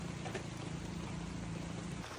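Rain falls steadily at a campsite, making a dense, even hiss and patter that continues without break, with no voices.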